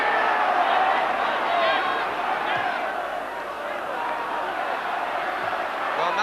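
Large home crowd at a 1982 Newcastle v Fulham football match, a steady roar of massed voices with rising chants, heard throughout behind commentary.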